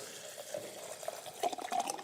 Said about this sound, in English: I fill this jar to the top,